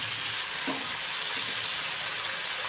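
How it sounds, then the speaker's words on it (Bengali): Potato pieces fry in oil in a pan for upma, giving a soft, continuous sizzle with a few faint stirring scrapes, close by and with no talking. "আলুটা আমি ভাজা ভাজা করে নেব"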